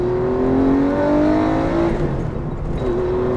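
A Porsche 964 RS engine droning steadily while driving on the road, a loud sustained tone that rises slightly and dips briefly before settling, heard from inside the car.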